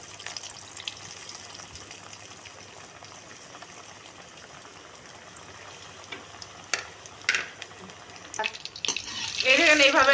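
Butterfly shrimp drop into hot oil over medium-low heat. A quiet background hiss builds into a loud, bubbling sizzle in the last seconds, with a few clatters just before.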